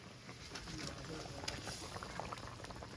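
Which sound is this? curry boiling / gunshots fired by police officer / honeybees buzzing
curry boiling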